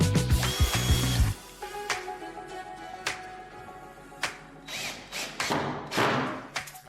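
A power screwdriver drives screws into a wooden beam for a wall-mounted tool rack, with several short whirring bursts and pauses, loud and close, broken by knocks and clatters and ending in a firm thud.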